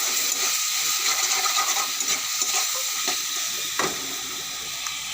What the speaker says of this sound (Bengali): জল দিয়ে ভালো করে ভেজে নেব মশলাটা